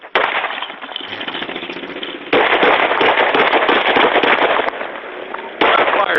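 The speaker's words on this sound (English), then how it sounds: "Shot fired." Gunshots fired during a police traffic stop, picked up by a patrol car dashcam: a loud, harsh burst of rapid cracking reports that comes in dense clusters, with the recording distorted and clipped.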